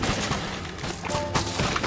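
A bow fires arrows in rapid succession in the video game Minecraft Dungeons, a quick volley of sharp thumping shots packed into under two seconds over busy game noise.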